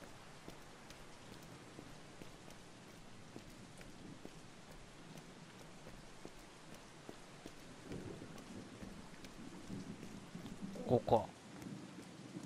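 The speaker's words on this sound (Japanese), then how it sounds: "雨がすごいですね。" Heavy rain pours steadily in the Beyond Two Souls video game, with low rolling thunder rumbling underneath; a brief spoken word and some louder rustling come near the end.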